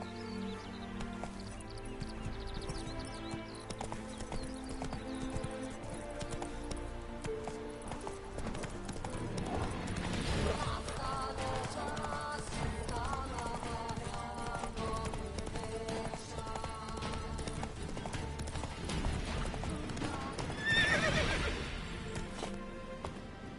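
A horse gallops in The Witcher 3 with steady, rhythmic hoofbeats clip-clopping throughout. Occasional neighs rise above a bed of game music and ambience.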